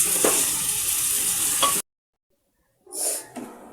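Potatoes and onions for aloo bhuna crackle and hiss in a pan with stirring scrapes, a close sizzle that cuts off abruptly into silence and then briefly returns.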